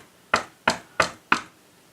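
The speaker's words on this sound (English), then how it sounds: "or let's try an incorrect knock." Four sharp knocks rap on an escape room secret-knock prop, evenly spaced about a third of a second apart, close and crisp in a quiet room with nothing else heard.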